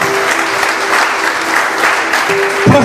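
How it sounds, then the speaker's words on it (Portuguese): Loud, steady applause from a church congregation, dense clapping sustained throughout with a brief vocal sound near the end. "E dá um aplauso ao Senhor Jesus."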